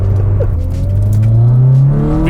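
An older car's engine revving at high RPM, a loud, steady, buzzing drone whose pitch climbs slowly as it pulls, heard up close from inside with no one talking.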